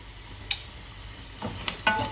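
Onions with mustard seeds and curry leaves cook in a pan for dhal, giving a faint low sizzle broken by a few short stirring scrapes and clicks.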